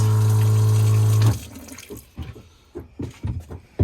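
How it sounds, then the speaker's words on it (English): A steady DC water pump hum with running water at a truck camper sink lasts about a second, then cuts off, leaving only small knocks and clatters. "That's the DC pump turning on and allowing us to have running water whenever we want it"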